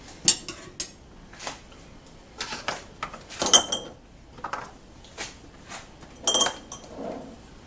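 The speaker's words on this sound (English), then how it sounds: "we'll give that just a nice little stir" Brandied fruit stirred in a glass jar makes close, irregular clinks and scrapes of a utensil against glass, separated by short pauses, with no speech.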